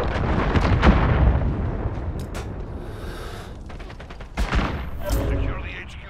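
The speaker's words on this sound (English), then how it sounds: "Enemy cruise missile incoming." Cruise missile strike in Call of Duty: a rolling series of loud, booming explosions and crackling blasts, with a fresh heavy impact midway, continuous and dense throughout.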